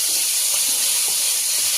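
Puchka pieces frying in oil, a loud, continuous hiss of sizzling that stays even throughout, with faint soft clicks underneath.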